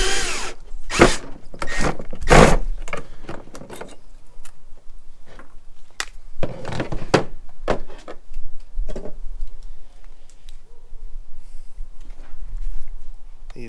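A cordless power drill removes door latch and handle hardware from a travel trailer cabinet, with several short whirring bursts up front, then quieter clicks and handling noises and a couple more brief spins.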